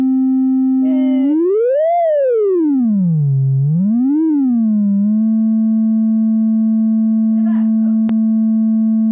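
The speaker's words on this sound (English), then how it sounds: "I know it's just a single droning tone for now, but we made sound" A single synthesized sine-wave tone drones loud and steady, sliding up and down in pitch twice early on before holding one flat note, with a brief spoken remark and a click over it.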